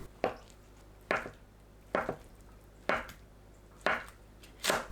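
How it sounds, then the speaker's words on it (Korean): A knife cuts tofu into bite-size pieces on a cutting board, six crisp, evenly spaced chops about a second apart, close and clear over a quiet background. "두부를 한 입 크기로 썰어주세요."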